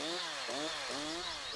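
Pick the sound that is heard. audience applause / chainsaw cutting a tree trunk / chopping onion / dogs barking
chainsaw cutting a tree trunk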